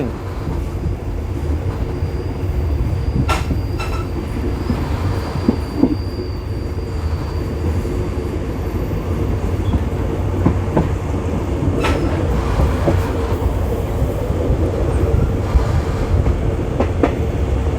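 A train rolls steadily along the rails between Nong Khai, Thailand and Thanaleng, Laos, with a constant rumble, occasional wheel clicks and faint squeals, loud and close throughout.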